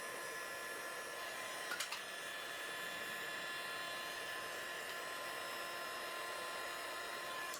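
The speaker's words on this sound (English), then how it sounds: "here I'm just removing the sticker using a simple heat gun and the plastic scraper" A simple heat gun blows a steady, even whoosh close by while lifting a sticker off car paint, with a couple of faint clicks of a plastic scraper around two seconds in.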